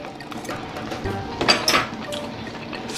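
Spoon turning seafood paella rice in a pot on a stove, with close metallic scrapes and a couple of clinks against the pot over a low steady background.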